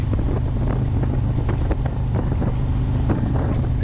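A Harley-Davidson Street Glide Special (FLHXS) on an overcast test ride, its engine a steady low drone beneath constant rushing wind across the microphone, with no talking.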